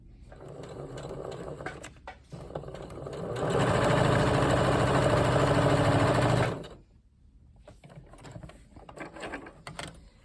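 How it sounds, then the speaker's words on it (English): A sewing machine stitches quilt binding corner to corner with a small stitch length, running in short bursts, then a sustained loud, fast whirring run for about three seconds before slowing to lighter stops and starts. "So you're gonna sew from the edge to this edge, so corner to corner."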